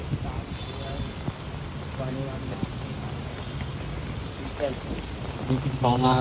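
Steady rain patters throughout with a constant hiss, while voices talk faintly in the background.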